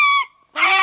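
A chicken calls at a New Year gathering in rural India: two loud, close, harsh squawks separated by a brief near-silent pause.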